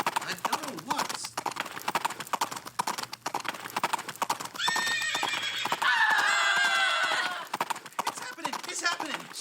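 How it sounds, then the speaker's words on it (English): A horse gallops with rapid, rhythmic clip-clop hoofbeats throughout, joined midway by a loud, drawn-out neigh, while excited voices talk over the action. "We're being chased by a crazy psycho on a big horse."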